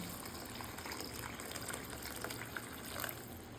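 Water gushes steadily into a pan holding spicy canned sardines and pechay greens, a continuous pouring wash with no voices, fairly quiet throughout.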